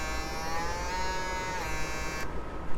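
A small Stylecraft Instinct hair clipper runs close up with a steady high-pitched electric motor buzz that shifts slightly in tone midway, then changes abruptly near the end.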